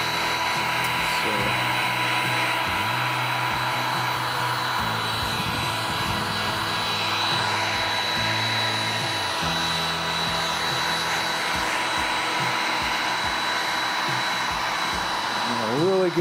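A hot-air blower runs close by with a loud, steady whooshing roar as it heats Snow Seal wax into the seams of boots, holding an even tone throughout with slight shifts.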